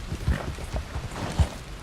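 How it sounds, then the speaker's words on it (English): A horse in Red Dead Redemption 2 gallops away, a few soft, heavy hoof thuds spaced irregularly across a short stretch, fading rather than close. "That horse getting the fuck out of here."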